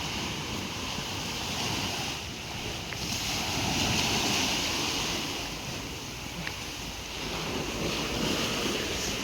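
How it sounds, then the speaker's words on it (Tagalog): Sea waves wash continuously along a shoreline, a soft broad surf roar blended with wind noise on the microphone, steady and moderately faint with slight swells in loudness. "balod ang dagat"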